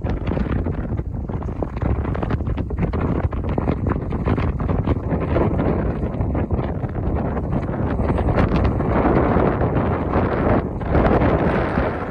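Strong wind buffets the microphone in a constant loud roar, gusting throughout with no voices, out in the Kilpisjärvi wilderness of the far north.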